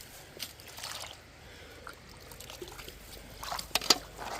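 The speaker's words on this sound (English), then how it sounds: "Get a little bit of water in here." Water trickles and splashes into a gold pan of paydirt during outdoor test panning, a steady soft pour with a few sharper splashes near the end and no voices.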